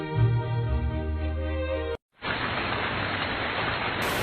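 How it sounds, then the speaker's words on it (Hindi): Heavy rain falls outside at night as a steady, dense hiss that starts after a brief break and continues alone to the end. "वो उठकर देखता है तो बाहर बहुत तेज बारिश हो रही होती है।"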